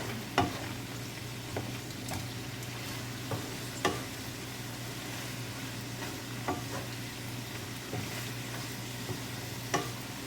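Cabbage is stir-fried with a little sesame oil in a pan, giving a steady sizzle under a low hum, punctuated every second or two by sharp scrapes and clicks of the spatula.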